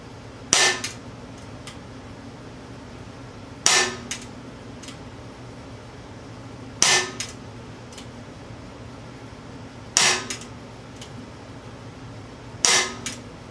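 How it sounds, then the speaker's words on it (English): Five evenly spaced sharp cracks from an Umarex Glock 17 Generation 3 CO2 BB pistol fired at a target five yards away, each shot followed by a quick metallic echo over a low steady background hum. "we're going to start off with the Glock 17 Generation 3 CO2 BB pistol"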